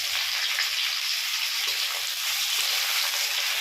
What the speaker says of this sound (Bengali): পেঁয়াজটা দেওয়া হলো, পেঁয়াজটা ভাজা হয়ে যাবে,